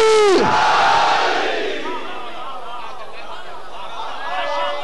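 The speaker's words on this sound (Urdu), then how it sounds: "دونوں ہاتھ بلند کر کے نعرے حیدری" Majlis crowd with raised hands roaring the Nara-e-Haidari slogan in a sudden loud collective shout, sustained into a swelling chant and murmur of many voices.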